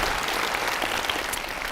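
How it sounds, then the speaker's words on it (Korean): Audience applause from a crowd of university students at a lecture, dense and steady clapping that fills the whole short moment with no voices over it. "박수 한번 쳐줘요"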